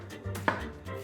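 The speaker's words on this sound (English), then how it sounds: "They simply do the tap chopping vertically, forming a crisscross shape and then dicing it." A knife tap-chops an onion vertically in a crisscross pattern before dicing it, giving a sharp close tap on the cutting board over a low steady background hum.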